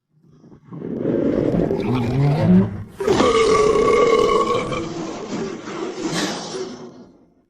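A long, loud, deep burp after drinking a fizzy soup, drawn out and rumbling for several seconds, with a brief vocal grunt before it, close and alone.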